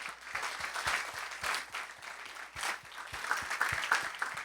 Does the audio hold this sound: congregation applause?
yes